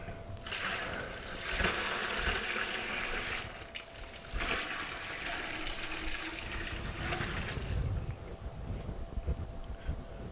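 Room-temperature brine poured over a whole raw turkey in a container, a steady splashing, gurgling pour running continuously for about ten seconds, close and fairly loud, with no talking.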